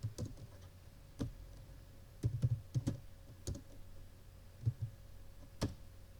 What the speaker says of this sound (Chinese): 中文打字，开始打字。